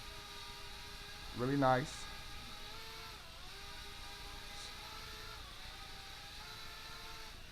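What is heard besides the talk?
Goolsky FQ17W mini foldable drone motors taking off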